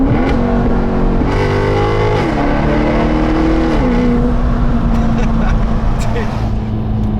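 A Maserati GranTurismo Sport's engine revs loudly and close, the pitch stepping up and down through several rises and falls, with voices talking over it.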